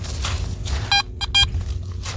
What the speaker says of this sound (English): It's beeping higher than a clad quarter for me.